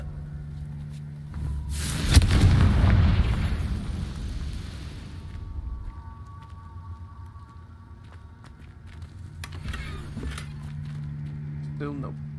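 A Confringo blasting spell in the Hogwarts Legacy video game goes off as a loud, booming explosion with a rushing burst that slowly fades into a low rumble, followed later by smaller in-game effects.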